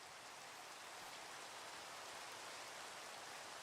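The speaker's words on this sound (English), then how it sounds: "This is technically considered nighttime because of all the heavy rain." Heavy rain falls steadily in a Minecraft world, a dense, even hiss of downpour that fills the whole stretch with no breaks and no voices.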